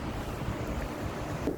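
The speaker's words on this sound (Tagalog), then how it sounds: "Naririnig niyo yung hangin? Lakas." Strong, cool wind rushes and buffets steadily against the microphone outdoors on a quiet night shift, a dense, unbroken roar that fills the whole moment with no voices.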